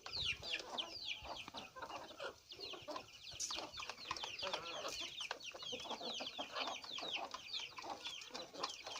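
Aseel chickens eat a homemade desi winter feed, giving a constant busy chorus of soft clucks and chattering calls mixed with rapid pecking, heard fairly close and quietly with no talk over it.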